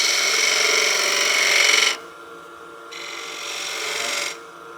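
A woodturning tool cuts a tenon on a wooden artifact pot spinning on a lathe, giving a bright, steady scraping hiss that stops abruptly near two seconds, returns for a second pass, then cuts off again, close and loud with no talk.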